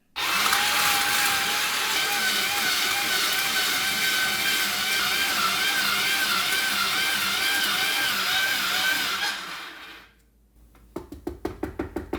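An electric kakigori shaved ice machine runs with a loud, steady motor whine as its upper motor unit grinds ice for about ten seconds, then cuts off, followed by a few sharp knocks and clicks.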